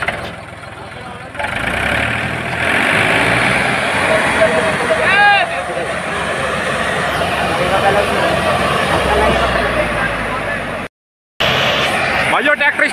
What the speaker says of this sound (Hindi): भाइयों ट्रैक्टर स्टार्ट हो चुके हैं